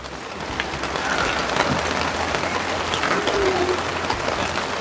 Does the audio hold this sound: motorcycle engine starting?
no